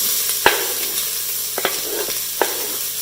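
Finely chopped yellow onion sizzles in hot corn oil in an Instant Pot on saute mode, a loud, steady frying hiss broken by a few sharp clicks of stirring, with no talking.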